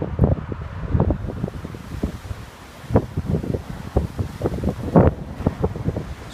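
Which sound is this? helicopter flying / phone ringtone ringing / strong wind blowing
strong wind blowing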